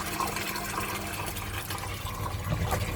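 Water from a pond pump pours steadily out of a clear pipe in a garden pond setup, a continuous close splashing flow with no talk over it.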